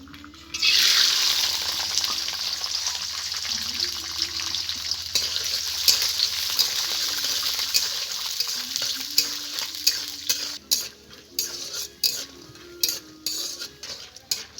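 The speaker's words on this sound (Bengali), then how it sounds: "তেল গরম হয়ে গেছে এবার চিনে বাদামগুলোকে ভেজে নেব" Peanuts frying in hot white oil in a pan, a strong sizzle that bursts in near the start and continues while a spoon stirs and scrapes, with sharp metallic clinks toward the end; no speech.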